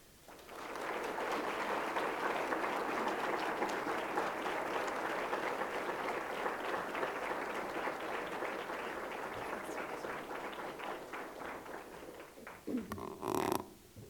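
Sustained audience applause greets Rachael Denhollander at a Veritas Forum talk on justice and forgiveness, a steady broad clapping that fills the hall for about twelve seconds before tapering off, with a brief clatter near the end.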